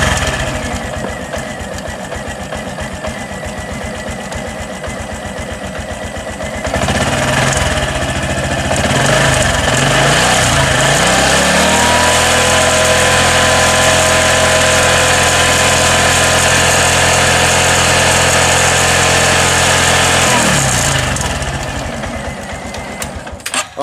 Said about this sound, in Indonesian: Jadi kita coba dulu, kita nyalakan motornya.